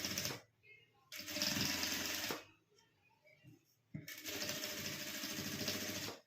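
Sewing machine stitching fabric pieces cut from old jeans, running in two loud close bursts of rapid rattling with a quiet pause between them.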